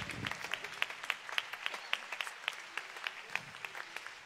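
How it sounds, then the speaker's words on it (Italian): An audience applauds the conductor at a live concert event, faint, even clapping from a crowd filling the whole stretch without pause. "un applauso anche al maestro"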